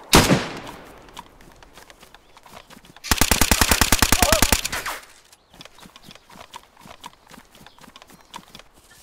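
Gunfire in DayZ Standalone: a loud single shot opens, then a rapid burst of automatic fire rattles for over a second, among softer scattered clicks and thuds and some faint background voices.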